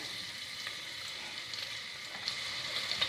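Roughly chopped onion fries in a pan with a steady, close sizzle and faint crackles and pops, and no talking.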